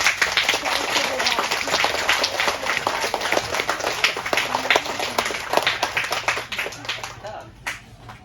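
Crowd claps for the referees at a beach soccer tournament awards ceremony, a brisk, fairly close burst of hand-clapping that holds steady for several seconds before thinning out near the end.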